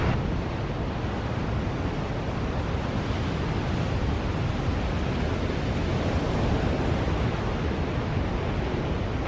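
Ocean waves wash onto a deserted beach in a soft, continuous roar of surf with some wind noise, steady and even throughout with no voices.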